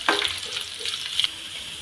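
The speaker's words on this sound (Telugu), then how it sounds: "ఎర్రగా వచ్చినాక ఇప్పుడు మనం తాలింపు వేసుకుందాం" Onions, fried until reddish-brown, sizzle in hot oil for a tempering, a close, steady hiss broken by sharp crackles and faint stirring.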